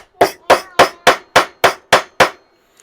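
A hammer striking steady blows in a home garage workshop, eight loud, evenly spaced impacts close by, each ringing briefly before the next, then silence.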